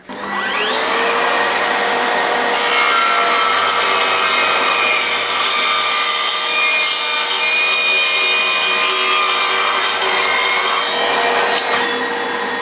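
An Evolution R185SMS-Li 18V cordless sliding mitre saw cuts through aluminium tubing: a loud, continuous whining blade grind that holds steady for about ten seconds before easing off, with no talking.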